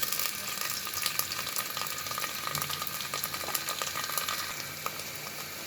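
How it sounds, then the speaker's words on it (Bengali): Ginger, garlic, onion and green chili sauté in oil with a steady sizzle and frequent stirring scrapes, moderately close and continuous, with no voices. "এখন আদা, রসুন, পেঁয়াজ, কাঁচামরিচ একটু কষিয়ে নিচ্ছি।"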